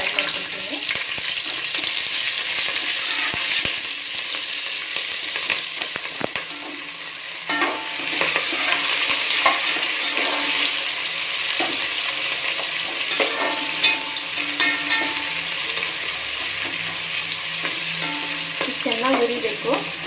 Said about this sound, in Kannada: ಚೆನ್ನಾಗಿ ಹುರಿಬೇಕು.